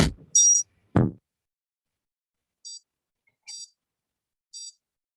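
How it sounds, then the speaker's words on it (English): Device beeps repeatedly, sharp electronic tones: a couple of quick beeps with a thud near the start, then three evenly spaced short beeps about a second apart, clear and alone in silence. "So it beeps 10 times."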